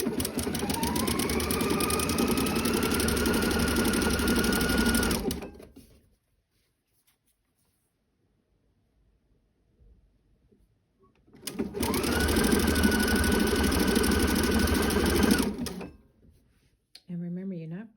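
Sewing machine stitching elastic onto the edge of a pair of underwear, running in two long, steady bursts of fast needle chatter separated by several seconds of near silence, with a short sound at the very end.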